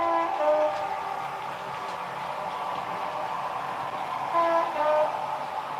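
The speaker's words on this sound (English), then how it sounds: "Give you a blast of the horn." Horn sounding on a nearly 30-year-old Lima model locomotive, two short tonal blasts at the start and again near the end over a steady running hum, fairly quiet and with no voices.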